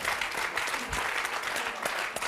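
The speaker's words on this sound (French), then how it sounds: "Ouais, on peut les applaudir." Brief audience applause in a French television studio, a short burst of dense clapping at moderate level with no talk over it.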